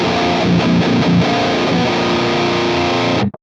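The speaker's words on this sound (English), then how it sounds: "Let's turn the reverb on, stock standard." Heavily distorted 2000s-style metalcore guitar played through a Fractal FM3 with its stock reverb switched on, a dense sustained wall of chugging riffs filling the clip before cutting off abruptly at the end.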